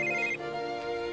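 Telephone ringing inside a Minecraft game world, a bright electronic trill that sounds for a moment and then cuts off, leaving a sustained tonal hum beneath it.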